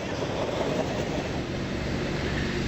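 A train rolling past a railroad crossing, a loud continuous rumble of rail cars and wheels filling the whole stretch.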